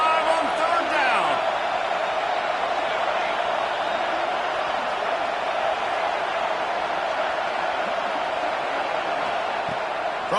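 Ohio State Buckeye football crowd in a stadium, a steady loud roar on third down with the band faintly mixed in, sustained throughout under an announcer's talk.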